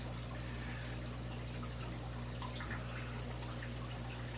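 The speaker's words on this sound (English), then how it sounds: "And here comes that RO. You can hear it running now." A reverse osmosis water filter runs, sending water trickling into containers: a faint, continuous pour over a low, steady hum.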